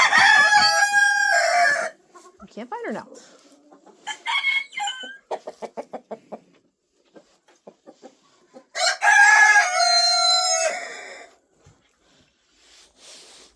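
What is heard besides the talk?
chickens clucking and rooster crowing in coop, Hedemora breed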